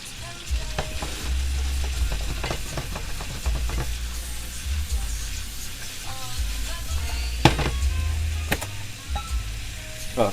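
Shrimp frying in a sauté pan make a steady sizzle, with intermittent clatters and scrapes of the pan and utensils over a low hum.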